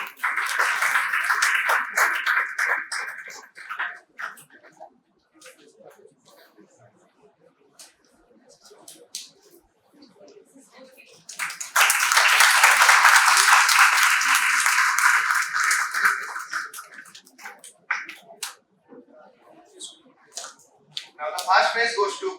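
An audience at an entrepreneurship day award ceremony at a university claps in two bursts, a short round at the start and a louder, fuller one in the middle, separated by quieter scattered claps.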